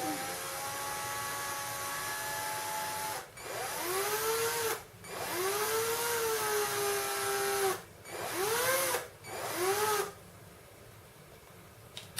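A power drill spins electric shaver blades against grinding paste, whining steadily with pitch that sags and recovers under load, cutting out briefly several times before stopping.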